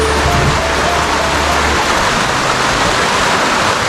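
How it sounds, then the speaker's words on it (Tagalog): Heavy rain pours down in a dense, loud, continuous hiss, with a low rumble in the first half that drops away, leaving an even wash of falling water. "malakas ang ulan"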